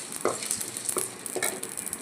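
A utensil scrapes and stirs through spices dry-roasting in a pan for rasam, producing soft rattling strokes and a light crackle at close range.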